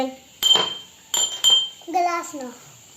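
Glass is clinked and tapped in a few sharp, ringing strikes during a children's sound-guessing game at an anganwadi; a voice answers close by afterward.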